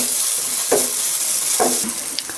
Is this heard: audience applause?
no